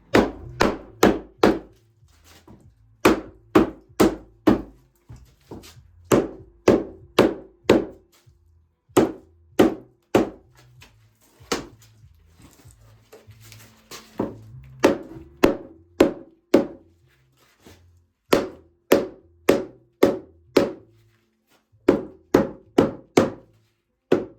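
A rubber mallet knocks on polyurethane foam hive bottoms in quick clusters of loud, hollow thuds, repeating in bursts with short pauses, close up.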